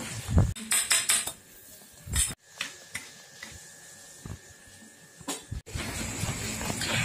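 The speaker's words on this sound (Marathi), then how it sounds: "मी एका प्लेटमध्ये त्याला पसरून ठेवते आणि गार करते" Roasted semolina is spread onto a plate with a metal utensil, giving irregular scraping, clinking and tapping of metal on the dish, close and moderately loud with quiet gaps between strokes.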